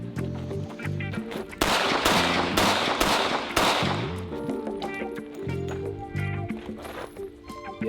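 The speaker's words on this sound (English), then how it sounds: "firing 5 shots, moving off the X, reloading, firing 5 more" A revolver fires a rapid series of loud, sharp shots during a drawing drill at a range. The shots come in quick bursts, with short gaps between them and a break for the reload.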